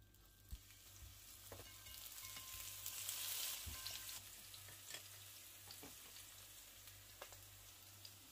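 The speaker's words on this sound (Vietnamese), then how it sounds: "Chảo dầu đã nóng thì bây giờ mình sẽ bỏ cà vô để chiên." Oil crackles and sizzles steadily as eggplant fries in a hot pan of garlic oil, with occasional clicks and stirring taps; no talking.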